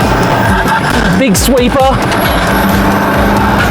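A Ford Raptor pickup lapping a slightly grippy, rain-dampened dirt course at an abandoned motorsport compound, its engine rising and falling through the bends under constant loud wind and road noise while someone talks.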